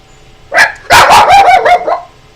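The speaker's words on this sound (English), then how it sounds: "My dog's just barking." A dog barks in a home during a math Q&A session, one sharp bark followed by a rapid run of several loud, close yips and barks over about two seconds.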